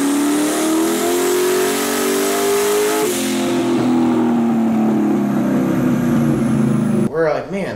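A boosted car engine revs hard during a dyno pull, loud and sustained as it climbs, then eases off before a brief burst of voices near the end.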